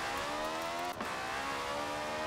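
A Citroën 2CV fitted with a V8 engine drones steadily under acceleration, its engine note holding a constant loud roar with a brief dip near the middle as it keeps pulling.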